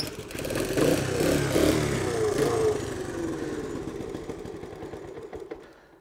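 A postie bike motorcycle, freshly serviced with a cleaned carburettor, runs with a loud nearby engine that revs briefly early on and then settles into a fading idle, with no talking.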